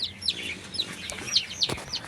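An Aseel hen clucks among her chicks, short close clucks mixed with high thin peeping in a quick irregular pattern.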